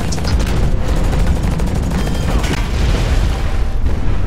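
Missile explosions and gunfire in the mech shooter game Hawken, a dense, loud barrage of booming blasts and rapid shots rolling on without a break.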